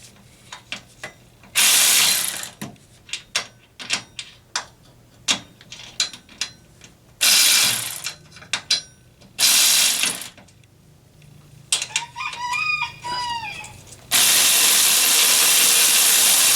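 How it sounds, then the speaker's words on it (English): Ratchet wrench working a bolt out of a chain tensioner on a go-kart, with bursts of loud clicking ratchet strokes separated by short pauses, plus clanks and a squeal of metal, no talk. "Got to take the bolt out that's in there."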